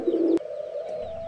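Pigeons coo in a backyard coop shared with birds and chickens, one low, steady call held close and fairly loud, then a softer continuing tone.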